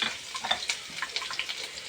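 Tempering spices, dried red chillies, garlic cloves and curry leaves frying in hot oil for a village-style brinjal fry, a close crackling sizzle with quick irregular pops and spatters throughout.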